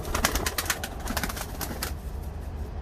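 Pigeons from an old Ankara breeding line, kept in a loft, with soft cooing and rustling wing flaps repeating close by in a steady, busy patter, no talk over them.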